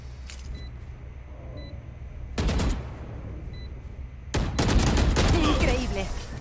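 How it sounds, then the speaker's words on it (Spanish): Gunfire in a Valorant match: two loud bursts of rapid shots, close and sharp, separated by a stretch of low game ambience with faint beeps. "Me encanta cómo dispara el Soba"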